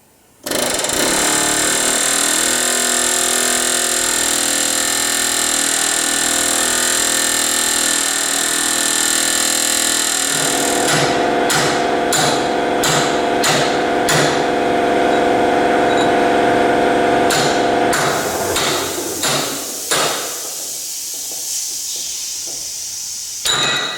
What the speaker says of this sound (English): I get the air hammer and see if I can chisel this out a little bit